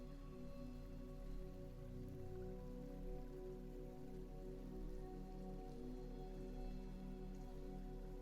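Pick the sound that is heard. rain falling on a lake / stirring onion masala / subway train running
rain falling on a lake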